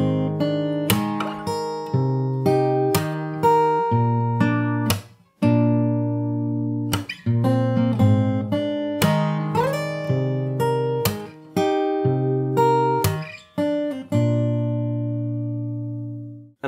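Fingerstyle acoustic guitar plays a song: plucked chords and bass notes ring out in a steady rhythm, with percussive slaps on the strings and short pauses between phrases, close and alone without any voice.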